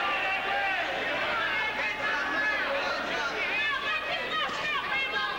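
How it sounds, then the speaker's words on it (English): A boxing crowd in Atlantic City roars and chants continuously, a dense wall of yelling voices and babble filling the space throughout, loud and close with overlapping shouts. "The crowd here in Atlantic City. You hear what they're yelling, boom, boom."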